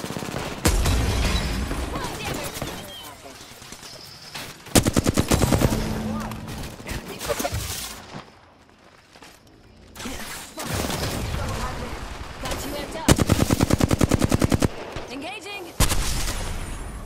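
Enemy gunfire in Apex Legends rattles in rapid automatic bursts, loud and close, with pauses between volleys and a voice talking over parts of it.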